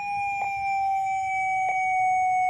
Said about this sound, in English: it'll make a really weird noise right before it shuts off if you have it in test mode